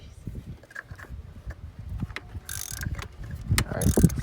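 A ratchet clicks in short irregular bursts while working loose a tight fitting on the spark plug area of an R53, with a couple of louder metallic rattles toward the end.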